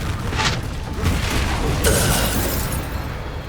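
A Confringo fire spell exploding in Hogwarts Legacy: a muffled boom with bursting pops over a steady, dense game backdrop, loud and continuous across the moment.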